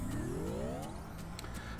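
Steady car traffic rumbles along a city street in the video game NEO: The World Ends With You, with one engine rising in pitch as a car pulls past close by over a continuous background hum.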